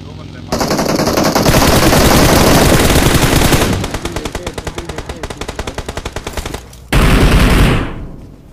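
Rapid automatic gunfire from a mobile shooter video game, loud and close, with sustained bursts, a run of distinct rhythmic shots, a short gap, then another heavy burst that fades out.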